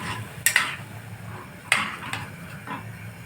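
Cooked chickpeas and water go into a pan and get stirred, heard as a few sharp metallic clinks and scrapes of a utensil against the pan, spaced out over a low kitchen background with no talking.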